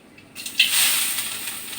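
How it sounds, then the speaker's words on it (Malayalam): Mustard seeds spluttering in hot oil while tempering for a coconut dish, a sudden burst of crackling and sizzling hiss that starts loud and holds steady, close up with no voices. "നമ്മൾ കടുവൊക്കെ പൊട്ടിച്ചു കേട്ടോ."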